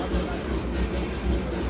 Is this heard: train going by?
yes